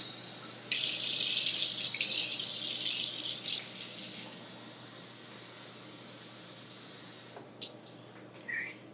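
Tap water runs into a Keurig coffee maker's reservoir, a steady loud hiss for about three seconds that tapers off, followed by quiet room tone and a few soft clinks near the end.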